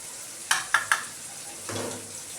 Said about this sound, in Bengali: পুরো মশলাটাকেই আমি দিয়ে দিলাম, দিয়ে নেড়ে নেব।